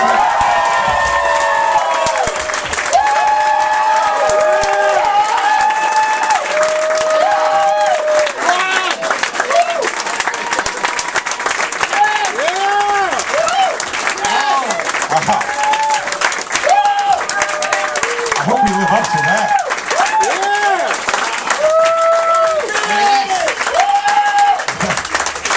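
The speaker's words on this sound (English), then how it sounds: "clap it up as loud as you can for Big Jay Oakerson and the one and only Ron Bennington" A studio audience at a live comedy talk show claps loudly and cheers for several seconds, with whoops and shouts rising over dense, continuous applause that stays at full strength throughout.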